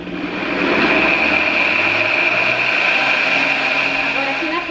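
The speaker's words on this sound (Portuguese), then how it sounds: "Agora é só bater no liquidificador. Eu coloco primeiro a opção pulsar" A kitchen blender runs on its pulse setting, mixing food for a quick lunch with a loud, steady whirring motor drone lasting a few seconds after a short ramp-up.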